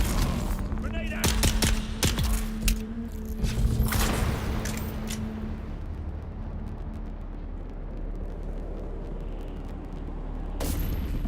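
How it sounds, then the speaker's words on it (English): A grenade blast and bursts of gunfire in the desert survival game Dune Awakening, with crackling shots and booms clustered in the first half before quieter rumble, and someone talking over the start. "Grenade out!"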